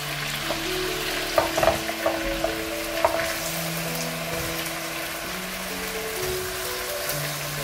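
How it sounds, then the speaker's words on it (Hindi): Chicken frying in garlic ginger paste, a steady close sizzle with a few clinks of stirring early on, and no voices. "अब आपने इसको अच्छा सा फ्राई करना है, चिकन को अच्छा फ्राई करना है"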